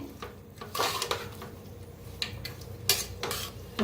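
Spoon scraping and clinking against a metal pot while mixing dill greens with salt and water, in several short bursts, with a faint background hum and no talking.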